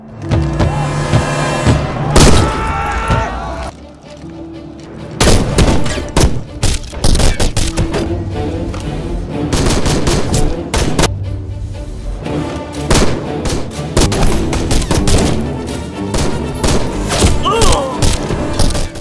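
Loud, dense gunfire and explosions from a war film battle at the India border, with rapid rifle shots, booming blasts and thuds overlapping almost continuously.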